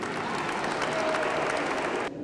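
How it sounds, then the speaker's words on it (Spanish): Steady applause from a crowd at a school Christmas carol festival, a dense wash of clapping that holds level throughout before cutting off abruptly at the end. "le damos un fuerte aplauso"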